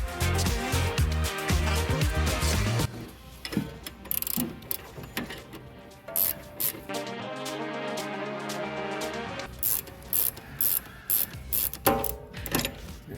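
Ratchet wrench clicking as it loosens an 18mm bolt on the rear toe arm of a 2016-2020 Tesla Model X, with dense loud ratcheting at first, then sparser clicks and clunks, close up.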